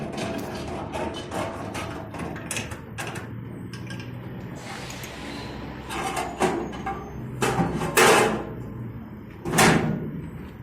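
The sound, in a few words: pigeon coop door being opened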